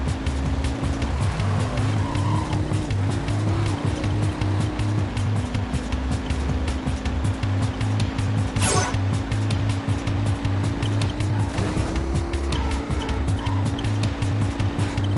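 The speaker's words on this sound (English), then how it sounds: "Slower though, as you'd expect, because we're in a starter car." Starter car driven in the video game Jak 3, a steady engine drone with shifting pitch and rushing road noise throughout, loud and continuous, with one brief sharp burst partway through.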